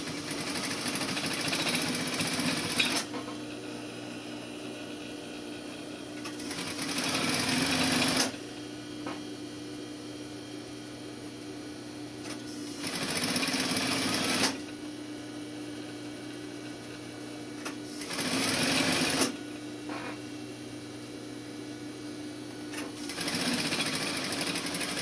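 A sewing machine stitches seams in several bursts of fast, even whirring, each a few seconds long and separated by pauses in which a quieter hum continues; close and fairly quiet, with no talk.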